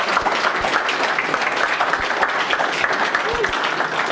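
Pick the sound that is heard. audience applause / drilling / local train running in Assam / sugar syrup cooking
audience applause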